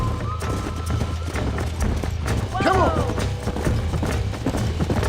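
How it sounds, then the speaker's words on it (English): Horses gallop in Red Dead Redemption, hooves pounding in a quick clip-clop rhythm close by, with a whinny rising briefly midway and someone shouting over the hoofbeats. "There's the horses!"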